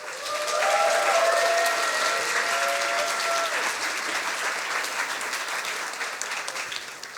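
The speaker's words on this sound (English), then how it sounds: "Big applause for Niels von Wardenburg." Loud, sustained applause from a science slam audience, a thick continuous clapping roar for several seconds. Some cheering tones are mixed in early on, and it eases slightly toward the end.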